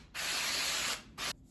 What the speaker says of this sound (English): but I'm gonna spray these really well.